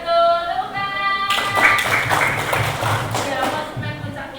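Schoolchildren in a classroom clapping their hands together, a dense burst of claps that starts abruptly after a short spoken phrase and carries on for about three seconds, fairly close and loud.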